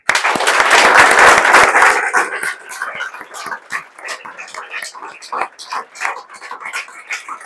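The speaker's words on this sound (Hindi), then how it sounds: "और उसके बाद अब ताली बजा दो।" Students clap for their seniors at a celebration of JEE Main results: a loud, dense burst of applause that thins after a couple of seconds into scattered, uneven claps, with some voices mixed in.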